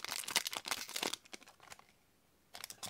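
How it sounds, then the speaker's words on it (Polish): Paper wrappers from collectible football coin packets crinkle and rustle in a busy burst of crackling handling, pause briefly, then crinkle again near the end, with no talk. "Wyrzucę te papierki."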